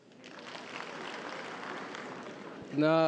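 A crowd applauds a comedian for a few seconds in a steady, fairly soft wash of clapping at a comedy show in Rwanda, then a voice begins speaking close by.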